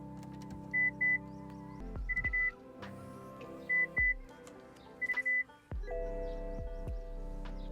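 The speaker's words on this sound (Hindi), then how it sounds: "जैसे मैं ये बटन दबाऊंगा आपके स्पीकर्स में से आवाज आएगी, एक बीप या अलार्म बजेगा" Test beeps from a BMW's car speakers, triggered through the hidden service menu: short paired tonal beeps repeat several times in groups, each clear and alone, over a steady low hum from the cabin.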